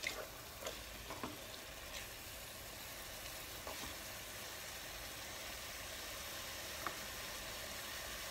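Prawn dum biryani mixture cooks in a pot on a stove turned to high, giving a quiet, steady sizzle with a few faint clicks and scrapes scattered through it.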